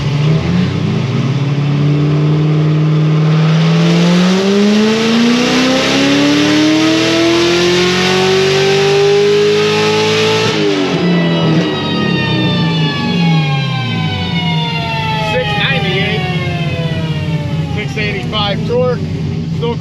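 A tuned car engine on a dyno climbs steadily in pitch through a full-throttle pull, loud and close, lifts off briefly and then sweeps up again with a rising whine and no break in the sound.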